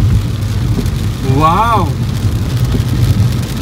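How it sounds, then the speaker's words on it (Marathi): Heavy monsoon downpour drumming on a car driving along the NH-66 Mumbai-Goa highway through Konkan, a constant rushing roar of rain with a voice briefly exclaiming partway through. "इतका धुवाधार, इतका जोरदार पाऊस पडतोय आपल्या कोकणात यार."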